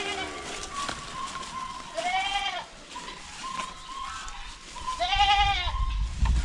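Goats on a farm bleat several times in wavering cries at fairly close range, over low background noise, with a brief low rumble near the end.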